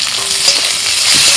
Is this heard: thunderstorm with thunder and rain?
no